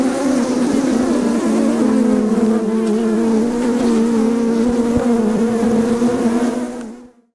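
Honeybees buzzing steadily inside an open hive, a dense, close droning hum that holds constant for about seven seconds before cutting off abruptly at the end.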